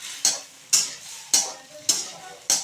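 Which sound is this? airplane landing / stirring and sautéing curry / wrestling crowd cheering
stirring and sautéing curry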